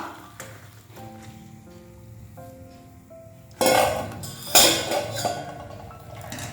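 Metal pot clinks and taps are followed by a splashy rush of cooking water being drained off boiled spinach, with more clattering afterwards.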